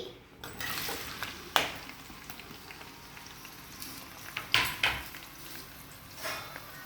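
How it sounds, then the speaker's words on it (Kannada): Chopped onions fry in oil in a pan on a stove, giving a soft continuous sizzle with scattered sharp clinks and scrapes of stirring against the pan. "ಆನಿಯನ್ ಸ್ವಲ್ಪ ಆನಿಯನ್ ಆಯಿಲ್ ಜೊತೆ ಮಿಕ್ಸ್ ಮಾಡ್ತಾ ಇದ್ದೀವಿ ಫ್ರೈ ಮಾಡ್ತಾ ಇದ್ದೀವಿ"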